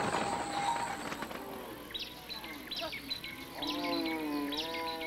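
Dinka cattle returning from pasture in Sudan give several drawn-out, low moos one after another. Insects chirp continuously in the background of the open countryside.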